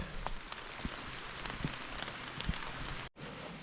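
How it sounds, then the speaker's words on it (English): Steady rain patters and hisses over a forest, with occasional heavier drips, fairly soft and continuous, briefly cut off near the end. "if the rain keeps up like this, which is actually supposed to get worse and windy"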